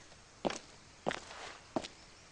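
Three soft, distinct footsteps in the survival game Rust, evenly spaced about half a second apart, quiet and fairly close over a faint hiss, with no talking.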